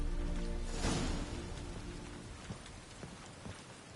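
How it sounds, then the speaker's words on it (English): Rain falls steadily in The Witcher 3: Wild Hunt, a dense patter of drops with a louder gust early on, then softer continuous rainfall with faint scattered knocks. "It's raining again."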